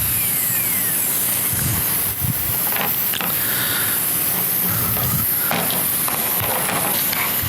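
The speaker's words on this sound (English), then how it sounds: "Compressor cycled on again." An air compressor in a woodturning workshop runs with a loud, continuous hiss of rushing air and mechanical rattle, close and steady throughout with small clicks and no speech over it.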